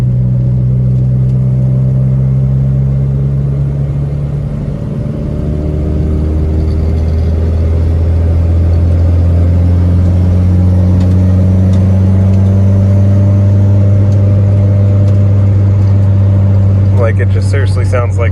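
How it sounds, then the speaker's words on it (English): A turbocharged D16 Honda Civic engine with a cheap aftermarket exhaust drones loudly with a raspy note that rises and falls in pitch, with people talking over it. "It just sounds like a Civic with an eBay exhaust."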